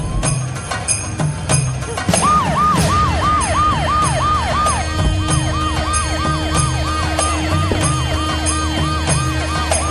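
An ambulance siren wails in a steady, rapidly repeating rising-and-falling pattern, loud and close, over engine rumble and a busy, noisy military base setting.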